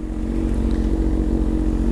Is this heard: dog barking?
no